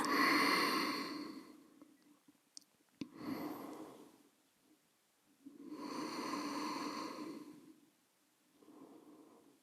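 Slow, deep breaths come from someone resting in child's pose during yoga: long audible inhales and exhales in a calm rhythm, close to the ear, with quiet pauses between them.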